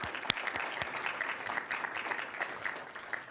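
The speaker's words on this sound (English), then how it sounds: "Let's give Stanley a round of applause." Audience applause for a retiring county employee at a Wake County commission meeting, a steady patter of many hands throughout, fairly faint and distant, with one sharper clap near the start.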